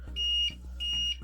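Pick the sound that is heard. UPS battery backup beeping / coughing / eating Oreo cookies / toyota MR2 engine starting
UPS battery backup beeping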